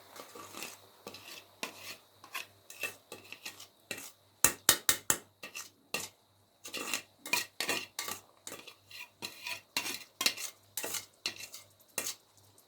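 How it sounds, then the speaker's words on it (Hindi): Boiled rice being stirred in a kadhai while cooking pulao, with a metal spoon scraping and clinking against the pan in quick irregular bursts, close and distinct with short pauses, no talking. "अब इसके साथ मैं डालूँगी बॉइल्ड राइस।"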